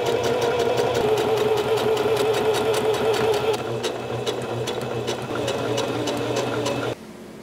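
A sewing machine hums steadily, stitching a vest liner for a Western cowboy vest, with a fast even needle rhythm that shifts pace partway through and drops to a quieter whir near the end.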